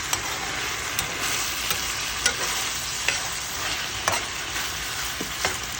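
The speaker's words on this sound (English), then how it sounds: "Stir it up and let it fry." Salt mackerel seasoned with black pepper sizzles steadily in a pan, a constant bright hiss broken by periodic scraping clicks as a utensil stirs the fish, close and without talk.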